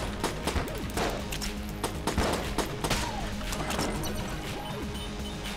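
Shotgun blasts in the video game Enter the Gungeon, with close-range shots hitting an armored shield enemy, form a dense, loud barrage of repeated booms and crashes over busy game music and effects.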